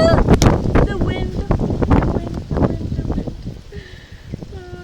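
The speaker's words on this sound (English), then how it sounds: "Oh, the wind." Strong wind gusts across a rooftop during a leaky-roof repair, buffeting the microphone with loud, rough rumbling and rustling while a person talks over it.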